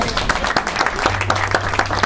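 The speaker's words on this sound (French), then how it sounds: "Ces messieurs ont été merveilleux et eux aussi méritent vos applaudissements." Clapping from a small audience for a live band at a Martinique talk show, a short burst of scattered hand claps with some crowd murmur and a low musical hum underneath.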